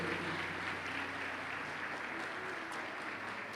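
Steady applause from a church congregation during a sermon, a continuous even wash of clapping heard at a distance and fairly faint throughout.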